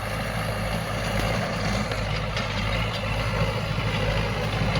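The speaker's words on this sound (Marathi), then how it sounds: "आणि लगेच याच्या मागे हे रोटावेटर चालू केलं मी" A tractor-driven rotavator tills a freshly sown chickpea field, giving a steady, loud engine drone with a continuous low rumble and churning soil noise throughout, no voices.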